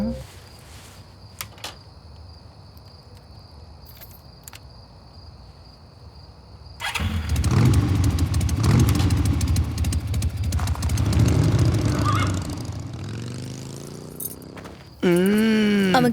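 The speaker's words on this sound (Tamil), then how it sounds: "அவன் கீயை போட்டு வண்டி எடுத்துட்டு போயிருக்கான்." A motorcycle is started after a key is put in, then revs loudly and rides off in a comedy film scene, following a quiet stretch with a few faint clicks, while a voice speaks over the rumbling engine.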